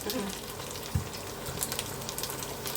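Fiddlehead fern shoots stir-fried with oyster sauce sizzle steadily in hot oil, with a soft stirring clack, under faint talk.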